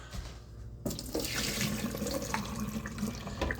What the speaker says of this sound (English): Pour it into the sink.